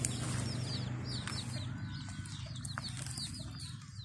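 Free-range village chickens scratching for food under trees in a rural Thai farmyard, with soft clucks and bird chirps over a steady outdoor background hum, faint and somewhat distant.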